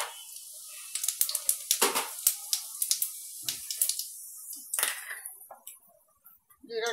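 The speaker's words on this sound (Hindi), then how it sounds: "तेल गर्म हो गया है। फ्रेंड्स, पहले मैं ये जीरा डालूंगी।" Cumin seeds dropped into hot oil while making methi kadhi: a crackling, spluttering sizzle of quick pops that settles into a quieter fizz, close and clear, with no talking.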